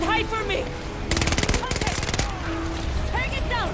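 The K30 gun firing in the video game Battlefield: two rapid automatic bursts of sharp, crackling shots, each lasting about half a second, ring out close and loud, with talk and other game sounds before and after them.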